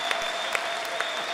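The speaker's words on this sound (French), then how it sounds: "Acclamez pour elle, non?" An audience applauding during an evening church service, dense steady clapping from a crowd filling the whole moment.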